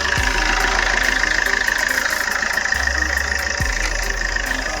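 A 2017 Maruti Ertiga VDI diesel engine idles with a steady, loud, even rumble, and a couple of brief low thumps rise over the drone.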